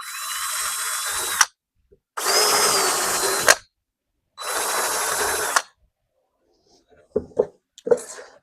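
Power drill boring drain holes in a birdhouse made from one fence picket, three loud close whirring bursts of a second or so each, followed by faint handling knocks.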